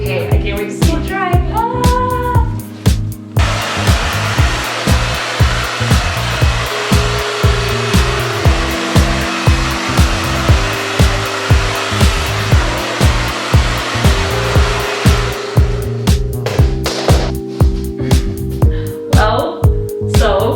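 A hair dryer blows steadily on freshly dyed pink hair, a loud close whooshing roar that runs almost the whole time, with light rubbing and handling sounds over it and a voice heard briefly at the start.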